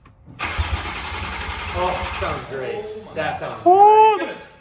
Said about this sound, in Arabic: وفي لحظة مفاجأة المحرك بيلف